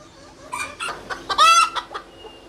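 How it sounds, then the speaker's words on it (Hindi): White, golden and cuckoo Cochin bantam chickens on a fancy hen farm clucking close by, a short burst of several sharp clucks and squawky calls with a faint steady hum underneath. "ये वाइट कुचीन बेंटम है, ये गोल्डन कुचीन बेंटम है, और ये कुकू कुचीन बेंटम है।"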